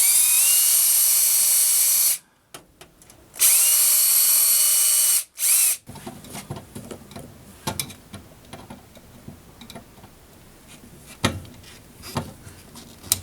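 A power drill whirs in two short bursts while tightening a saddle valve during an Aprilaire 700M humidifier installation, followed by quieter handling clicks and knocks.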